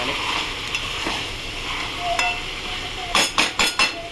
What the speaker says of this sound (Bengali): নুন দিয়ে এটাকে ভালো করে নাড়াচাড়া করবো